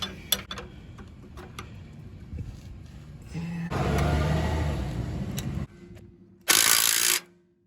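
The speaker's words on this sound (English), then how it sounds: "I need a wrench on the back side here." A 13/16 wrench works a rear shock bolt on a 2013 RAM 1500 pickup: a few sharp metallic clicks, then a sustained grinding rasp, and finally a short, loud burst of scraping, all up close with no talk.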